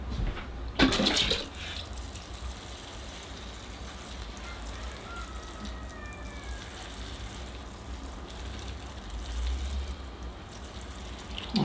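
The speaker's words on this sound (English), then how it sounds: "And I better give that a water too." Water poured over the soil of a potted bonsai umbrella tree, a steady trickling and splashing that runs for several seconds after a brief louder burst, with no voices.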